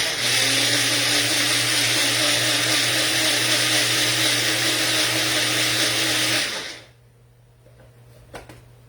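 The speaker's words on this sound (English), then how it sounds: "so all in the blender" A blender blending pesto whirs loudly and steadily for several seconds, then cuts off abruptly, leaving faint room sound.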